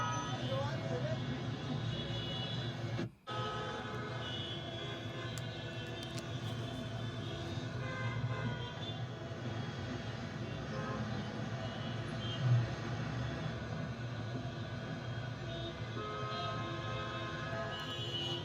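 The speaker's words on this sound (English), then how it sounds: "I think that you guys heard roughly the traffic sound that I usually play for all my mic tests" A traffic recording plays from the left side for a microphone test: a steady, dense wash of road and engine rumble runs throughout, with one brief dropout early on and a small bump later. Some speech is also picked up.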